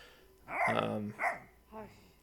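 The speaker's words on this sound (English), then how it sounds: "you can see the dogs here barking and wanting to play" Livestock guardian dogs on a sheep farm bark three times in short bursts, a longer double bark followed by a fainter single one, at moderate distance and fairly quiet.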